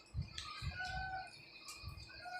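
Chickens and ducks calling on a farm, with clucks and crowing, mixed with low thumps and flapping, fairly close and steady over the short stretch.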